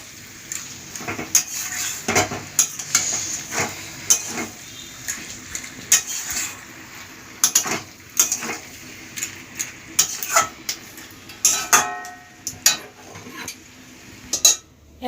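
A pot of soft vegetable curry with potol, potato and stalks is handled at the stove, with repeated metallic clinks and scrapes of a utensil against the pan and a faint sizzle underneath, all without talk.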